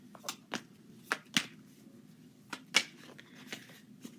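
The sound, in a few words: shuffling a deck of tarot cards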